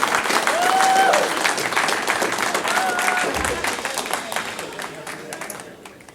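Audience at a couples and singles glamour night applauding, dense clapping with a few faint voices and a brief whoop early on, gradually thinning and fading toward the end.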